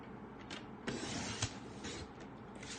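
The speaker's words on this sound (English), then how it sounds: "I'm going to take my trimmer and I'm going to cut this down to 4 1/4" A paper trimmer slices a full sheet of cardstock with a faint, close sliding and scraping mechanism, with a soft click partway through the cut.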